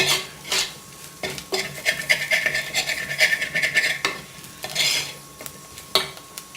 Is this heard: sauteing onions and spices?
yes